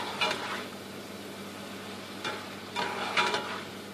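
Hamburger meat sautés in an iron skillet while it is stirred. A soft, steady sizzle is broken by a few brief scraping stirs, close by and with no talking.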